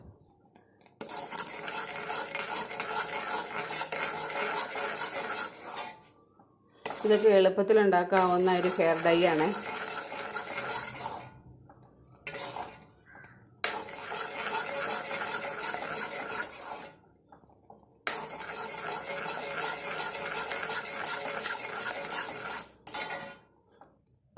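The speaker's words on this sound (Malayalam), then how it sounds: "തീ കുറച്ച് വെച്ച് ഇളക്കി യോജിപ്പിച്ചെടുക്കാം" A spoon scrapes and clatters in a pan, stirring a homemade natural hair dye mixture over a low flame, in several long, steady bursts separated by pauses, with a person speaking in between.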